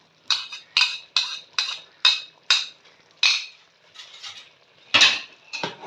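A metal spoon scrapes and clinks rhythmically against a pot as beaten egg is worked into rice pulao with peas, about a dozen close, bright strokes in a steady pattern with no voices.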